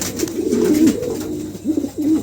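Fancy pigeons coo close by in loud, throaty rolling calls, one long phrase followed by two shorter ones.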